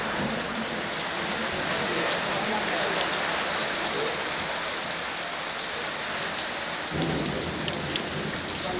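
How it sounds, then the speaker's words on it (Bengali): Steady heavy rain pours outside a shop in Bangladesh, a dense continuous hiss of drops on surfaces with occasional louder splatters and a faint low rumble, no voices over it. "এখনো বাইরে বৃষ্টি হইতেই আছে।"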